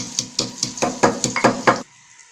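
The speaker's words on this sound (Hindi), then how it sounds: "ये भी इसमें डाल लेते हैं, और ये जो हमने 1 टेबल स्पून सौंफ ली है ये भी इसमें डाल लेते हैं, और इन्हें हम कूट लेंगे।" Fennel seeds and spices pounded in a mortar, about eight sharp rhythmic thuds with a metallic ring, close and loud, then stopping abruptly.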